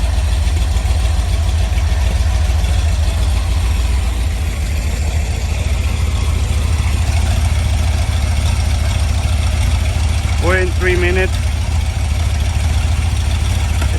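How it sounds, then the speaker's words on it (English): A carbureted Rover 4.0 V8 on an engine stand idles with a steady, even low rumble throughout, and a brief voice is heard near the end. "It's idling perfect."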